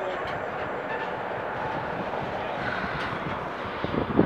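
An LNER train pulls into Huntingdon station, a steady low rumble of rolling wheels and engine at moderate distance, with a faint clatter near the end.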